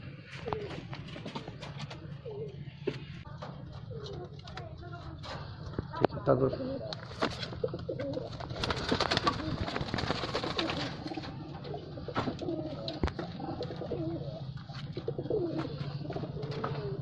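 Low pigeon coos murmur steadily through the background of a pigeon loft in Canning, West Bengal, India, with scattered clicks and wing rustles and a person talking over them.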